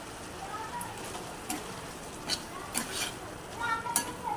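Prawns are added to masala in a pan: quiet, soft sizzling with occasional scraping stirs, a few light clatters standing out against a low, steady hiss.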